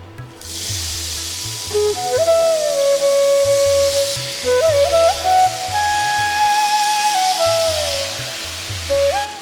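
Hand-mashed masoor lentils go into hot tempering and give a steady, bright sizzling hiss throughout, with rhythmic background music underneath.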